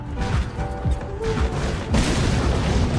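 A grenade blast in Resident Evil, heard as a dense booming rumble with crashing debris and scattered crackling bursts, fairly loud and close, continuing with heavy low rumble through the whole stretch.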